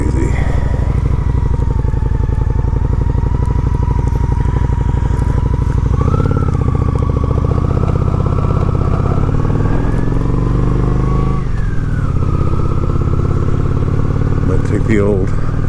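Honda Shadow 750 ACE motorcycle engine drones steadily at cruising speed, with loud continuous wind buffeting throughout and a couple of brief shifts in engine pitch as it rides along.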